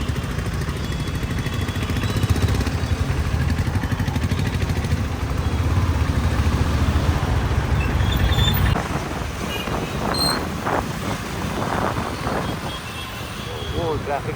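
Road noise and engine drone heard from a motorcycle riding through city traffic near Kajaguda hills, with wind buffeting the microphone throughout and a shift in the engine sound partway through.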